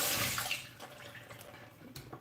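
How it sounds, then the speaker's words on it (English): Running water pours over a freshly gutted carp being rinsed, with splashing and irregular trickling that is loud at first and then eases to softer spatters. "I'm just gonna give it a quick rinse again."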